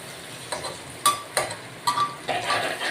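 Gram flour being dry-roasted and stirred in a pan, with a spoon scraping in several distinct clattering strokes over a faint sizzle, close and fairly loud.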